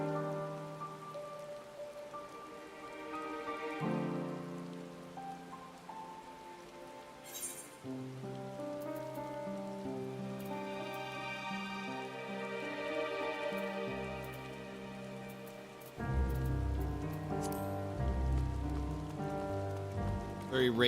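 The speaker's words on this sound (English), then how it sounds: "Very rainy and somber." Rain in Final Fantasy XIV falls steadily at Camp Broken Glass in Garlemald, a continuous soft hiss spread beneath a slow, somber musical score that swells louder toward the end, with no one speaking.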